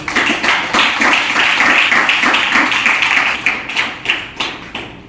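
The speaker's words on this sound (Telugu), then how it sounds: "ఒకసారి చప్పట్లు కొట్టండి" Audience clapping at a children's semi-Christmas celebration in a church hall, a steady loud round of applause from many hands that thins and fades toward the end.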